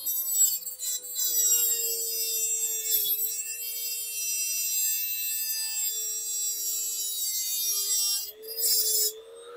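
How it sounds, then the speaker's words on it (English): Dremel rotary tool cutting through a BMW Z3 radiator pipe, a steady high-pitched whine with a grinding rasp that runs continuously for several seconds, close and without talk. "So I'm just going to use my Dremel. This should work a lot easier."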